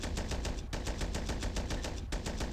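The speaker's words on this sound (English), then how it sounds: "50 cal sounds like the normal 50 cal from Men of War." Rapid, sustained burst of a .50 cal heavy machine gun firing in the Vietnam War game Battle of Empires: Vietnam, with a steady stream of loud shots and one brief pause partway through.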